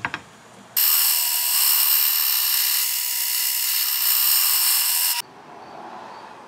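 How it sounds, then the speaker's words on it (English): A power sander grinds a metal pipe for an axe handle, starting abruptly with a loud, steady high-pitched whine and rasp that holds for about four seconds and then cuts off, no talk. "I'm going to use a little more aggressive sander this time."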